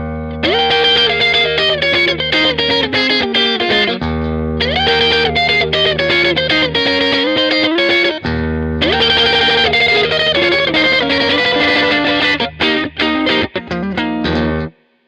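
Electric guitar lick played with overdriven, effects-laden tone: sustained bent notes and melodic phrases over a steady low bass, loud and continuous, repeated twice before cutting off.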